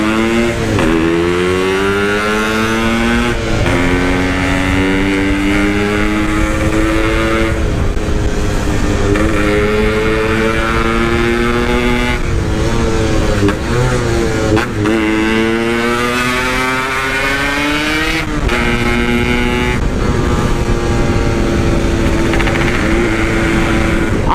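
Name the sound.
Honda GL motorcycle engine accelerating on a night ride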